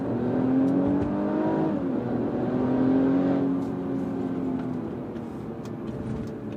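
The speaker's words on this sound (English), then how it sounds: "it does blip on the downshift by itself" A 2019 Mercedes-Benz E350 AMG Line (W213) engine hums under load during a drive, with its pitch shifting as it automatically blips the throttle on downshifts, a sustained moderately loud drone over road noise.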